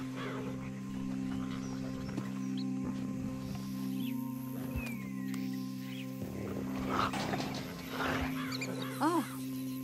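In Red Dead Redemption 2, a tiger growls and snarls near a dog amid scattered animal cries, with a steady low drone of game ambience underneath and voices talking at moments.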